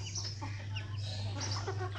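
A hen clucking softly in short bursts over a steady low hum, with faint rustling farmyard background.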